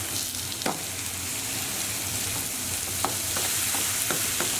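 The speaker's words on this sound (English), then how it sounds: "we just want to cook that all together until our mince has browned." Beef mince frying with chilies and crushed garlic cloves in a pan, giving a constant close sizzle with occasional sharp spoon taps and scrapes against the pan, with no talking.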